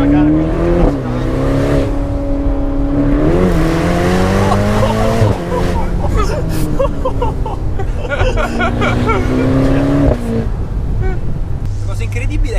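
Ferrari launching hard with launch control, its engine roaring loud and rising in pitch through successive gear changes, under a steady wash of crowd babble and tire noise.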